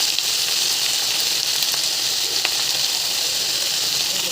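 Coriander chutney (kothmir pachadi) frying in a pan, giving a continuous bright, even sizzle and hiss of moist ingredients cooking, close and steady throughout with no talking.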